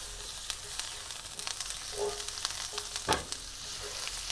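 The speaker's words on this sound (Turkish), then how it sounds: "Tavada tekrar şöyle tereyağını ilave ediyorum." Butter sizzling in a frying pan aboard a ship, a steady crackling hiss with scattered sharp pops and a brief louder spatter near the end.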